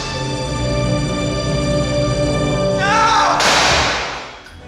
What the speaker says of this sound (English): And then he shoots.